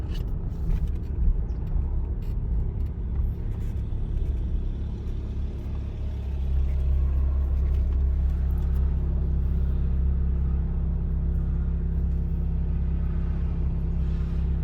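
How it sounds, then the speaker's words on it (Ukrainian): A car driving on a road during a driving exam, steering around a parked car: a steady low engine and road rumble that swells slightly partway through, heard from inside the car, with no speech. "Об'їжджаємо припаркований автомобіль."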